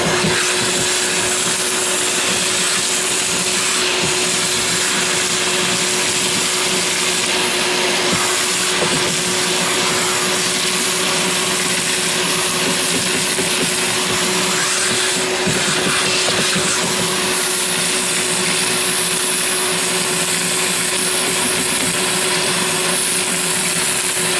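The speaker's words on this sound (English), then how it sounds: "Suck the glass out of the trough." A vacuum cleaner sucks broken glass out of a truck cap window trough, a loud constant motor whine with faint rattles of debris drawn through the hose, no talking.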